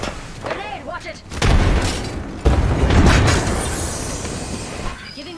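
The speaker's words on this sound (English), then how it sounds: "Grenade, watch it!" A grenade explosion in the Apex Legends video game: a heavy booming blast followed by a second rumbling impact, loud and close amid game sound effects, with voices heard briefly.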